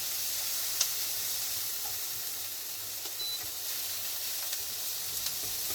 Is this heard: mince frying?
yes